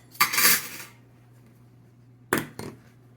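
A knife cuts through a slice of hot baked apple pie with short-crust pastry on a plate: a short scraping cut, a pause, then two quick clinks of metal against the plate, close and alone.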